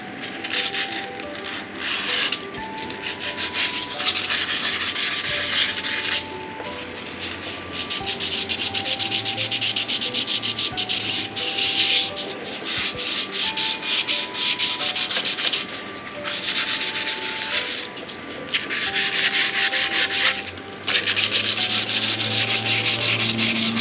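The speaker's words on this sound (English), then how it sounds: "I'm just going to use sandpaper to get closer to the edge." Sandpaper rubbed by hand against the worn lip of a Honda Civic Si rear brake rotor, making a loud, steady, rasping scrub that runs in long strokes with brief pauses between them and no talk.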